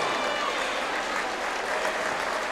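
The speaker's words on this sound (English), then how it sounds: "can we please have a big round of applause for both of our fighters?" Crowd applause for both fighters at an amateur combat sports event, a steady, dense wash of clapping filling the whole stretch without pause.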